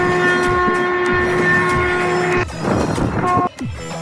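A Katwa local train stands at Agradwip station late at night, its steady loud mechanical hum and whine holding for a couple of seconds. Then the drone breaks into rougher rumbling and clanking, with a brief dip before it settles again.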